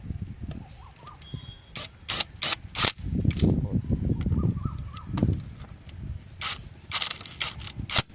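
Power impact gun tightening a rotavator gear, firing in short, sharp rattling bursts separated by pauses, close and loud, with a mechanical clattering between bursts.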